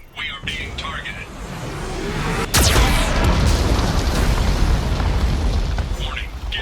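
Geth cannon blasts in the Mass Effect 2 video game: a heavy boom strikes midway and leaves a loud rumbling roar, with a synthetic warning voice speaking faintly over the start.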